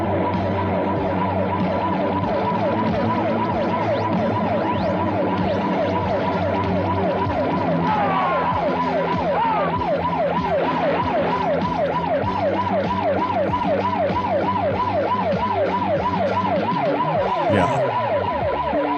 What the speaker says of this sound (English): that siren goes for the last 15 minutes of this film